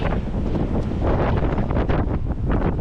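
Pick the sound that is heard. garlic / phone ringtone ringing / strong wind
strong wind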